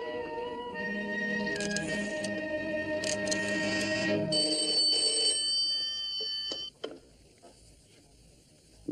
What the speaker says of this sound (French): Daniel, Tu attendais un coup de téléphone de Laurence d'Arabie, sans doute?